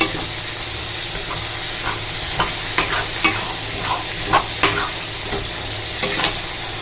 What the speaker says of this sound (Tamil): இதை ஒரு தடவை இப்படி கலரி விடலாம்.